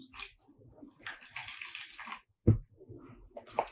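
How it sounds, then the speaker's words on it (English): Water splashes and trickles as it is poured onto microgreens growing at home, with a brief louder gush near the end amid close handling noises. "I'll pour some more water."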